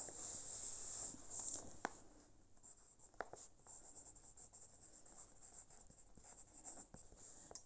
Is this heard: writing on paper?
yes